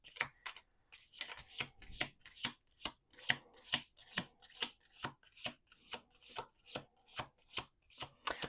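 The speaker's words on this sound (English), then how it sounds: "2 more shuffles." Playing cards are shuffled repeatedly in a steady riffle rhythm, about fifteen crisp, close bursts of papery flutter and snap in an otherwise quiet room.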